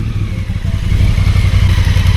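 A motorcycle rides through fine, soft desert dune sand in Tunisia, its engine loud and close with a steady low droning rumble and a rattling clatter throughout.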